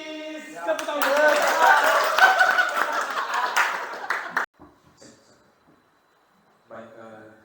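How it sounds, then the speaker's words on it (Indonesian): Group of people clapping hands at a teachers' gathering in North Nias, a dense burst of claps lasting several seconds that stops abruptly, followed by faint scattered sounds and brief speech. "Tepuk tangan."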